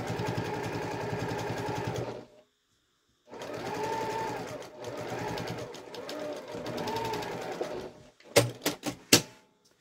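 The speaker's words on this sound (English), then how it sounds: "You're going to top stitch it about 1/8 of an inch away from the edge." A sewing machine top stitches along the edge of a fabric pouch in close, rapid mechanical bursts, stopping and starting between runs, followed by a few sharp clicks.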